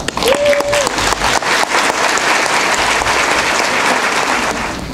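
An audience at a school district breakfast breaks into loud, sustained applause, a dense wash of clapping hands that fades slightly toward the end.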